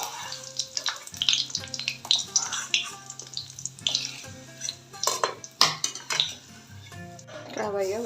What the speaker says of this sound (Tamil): முந்திரியும் திராட்சையும் வறுத்துக்கலாம்.